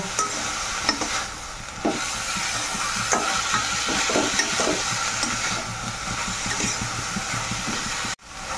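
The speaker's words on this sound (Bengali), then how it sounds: "ভালো করে এইভাবে নেড়ে চেড়ে" Singara stuffing with a little sugar is stirred in a hot pan, a continuous close sizzle overlaid with repeated scraping and clacking strokes of the spoon, ending in a sudden brief break.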